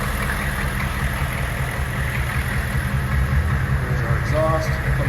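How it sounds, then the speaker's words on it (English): A 2002 Hummer H1 with a 6.5 turbo diesel idles after a cold start, a steady low rumbling clatter running close and unbroken throughout. "I'll just go ahead and do a quick cold start here for you. Watch this. Just fires up."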